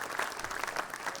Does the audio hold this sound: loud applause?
yes